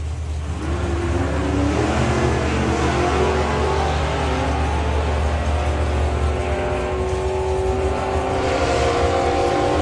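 Drag racing car at the Festival of Power blasting down the strip, a loud sustained engine roar with a rising whine that holds steady for the full run, near and continuous, with no talk over it.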